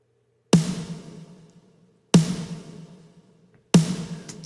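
A big, punchy snare drum sample from Drum Sample Shop, mixed very roomy for church sound, strikes three times alone, each sharp hit followed by a long decaying room tail.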